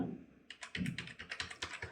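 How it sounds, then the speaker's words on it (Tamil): Someone types a mobile number on a computer keyboard, a quick series of close, crisp key clicks in an irregular rhythm against a quiet room. "உங்களுடைய ரேஷன் கார்டில் பதிவு பண்ணப்பட்ட அந்த மொபைல் நம்பரை இந்த பாக்ஸில் போய் டைப் பண்ணிக்கோங்க"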